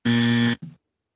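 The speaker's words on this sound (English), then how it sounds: "I got the buzzer from Andrew." A harsh, loud electronic buzzer sound effect at a boxing talk show, one long flat blast followed by a short second burst, then silence.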